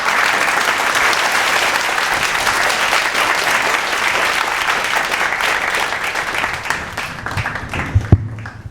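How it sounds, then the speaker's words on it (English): Sustained crowd applause at an awards and dinner night for an Indian hall of fame in Singapore, dense steady clapping throughout, swelling with a few louder claps near the end. "One more round of applause for the President of the IHFS"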